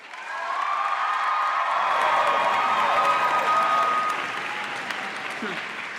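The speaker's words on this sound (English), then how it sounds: "I invite the members of the graduating class to reciprocate by applauding the family, friends, faculty, and staff that have helped you reach your goal" A graduating class applauds family, friends, faculty and staff at an SFU convocation ceremony, a broad wash of many hands swelling within the first second, holding loud and steady, then easing off near the end.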